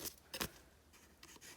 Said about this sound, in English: Follow the edge of my scissors on the back side there